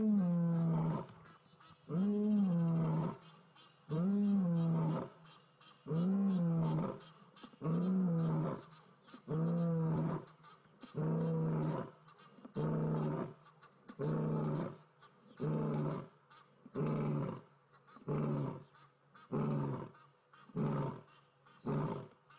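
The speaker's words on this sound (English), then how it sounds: "there's another lion calling" A lioness roars out in the open African bush in South Africa, giving a long series of deep, rhythmic grunting calls that start strong and gradually fade, loud and fairly close with no talk over them.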